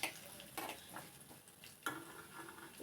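Cumin and mustard seeds sizzle faintly in hot oil for dal tadka. A soft, constant crackle is broken by a few scraping stirs of the pan, and no one speaks.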